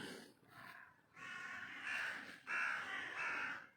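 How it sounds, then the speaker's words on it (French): Crows caw outdoors in a series of loud, harsh calls, several drawn-out caws close together, with no talking over them. "Vous entendez les oiseaux?"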